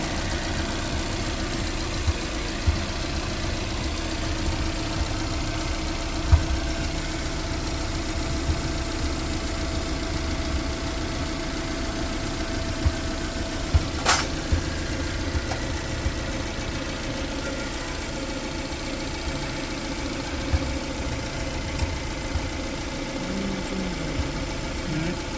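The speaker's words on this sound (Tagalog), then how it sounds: "okay na ang tunog ng makina" A Suzuki APV engine idles steadily and evenly for a long stretch after a misaligned timing belt is corrected, a close low hum with faint ticking and no talking.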